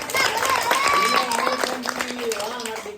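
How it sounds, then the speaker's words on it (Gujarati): Children and adults at a school gathering applaud a young girl named as the winner, their scattered clapping mixing with loud excited chatter and voices that ring out over it. "તાળીઓ પાડો બધા"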